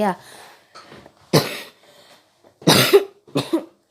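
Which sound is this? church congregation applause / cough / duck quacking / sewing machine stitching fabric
cough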